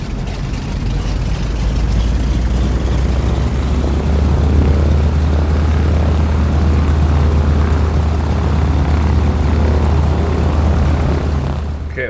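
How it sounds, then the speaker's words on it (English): A De Havilland Beaver's radial aircraft engine runs steadily at about 1000 RPM during warm-up with the propeller set to full, giving a loud, continuous low drone close by and no talking. "we'll go ahead and go full on the prop and 1000 RPM for the warm-up"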